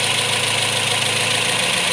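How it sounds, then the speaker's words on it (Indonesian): 2014 Toyota Vios sedan engine idling just after starting, a steady smooth mid-pitched hum with even, faint rhythmic pulsing, close and constant with no talk. "Nah, suaranya halus ya, guys. Mesinnya halus, bisa didengar sendiri."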